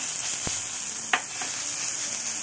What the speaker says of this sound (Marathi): त्याच्यामध्ये एक ते दीड चमचा तेल गरम करून घेतलेला आहे त्यात आपण टाकणार आहोत पाव चमचा राई